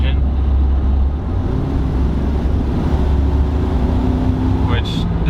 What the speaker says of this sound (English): And you get a lot of road noise, you get a lot of engine noise.